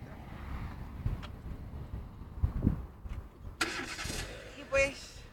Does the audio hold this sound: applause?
no